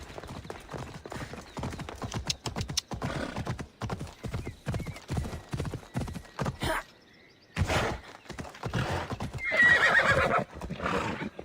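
An undead horse in Assassin's Creed Odyssey: Fate of Atlantis trots with rhythmic, close clip-clop hooves, pausing briefly before a loud whinny rings out and the hoofbeats resume.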